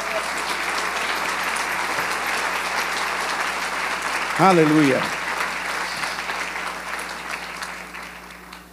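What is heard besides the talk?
congregation applauding in church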